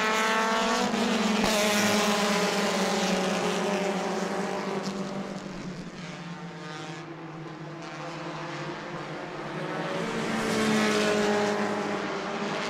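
Race cars roar around an oval track at a family fun night, a dense loud engine drone swelling, easing and building again as the pack passes, with no voices over it.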